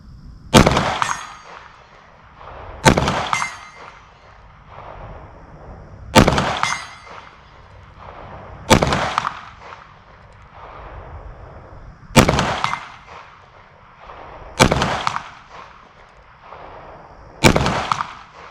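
Walther PDP SD Pro Compact pistol firing 115 grain hollow points: seven sharp, loud shots spaced a few seconds apart, each with a brief ringing decay, and no talking between them.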